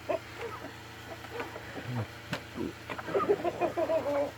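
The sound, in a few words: chickens clucking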